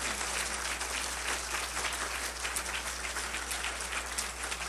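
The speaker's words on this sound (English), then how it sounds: "How about a big round of applause for our speaker?" An audience at a history museum talk applauds its speaker, a dense, even patter of clapping over a steady low hum, with no voices.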